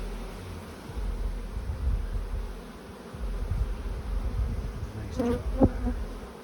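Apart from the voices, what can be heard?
honeybees buzzing around hive frames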